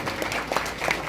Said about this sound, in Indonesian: Tepuk tangan buat guru.